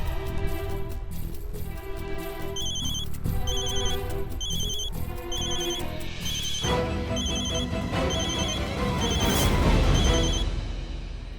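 Telephone rings repeatedly in a busy market street after a number is dialed, bursts of ringing tone recurring over steady background bustle and music.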